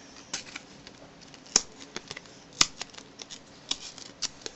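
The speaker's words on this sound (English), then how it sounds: "We're just gonna rip up this joker" A joker playing card is ripped up close by, producing a run of small, sharp paper tears and snaps at irregular intervals, with several brighter cracks standing out above a soft background hiss.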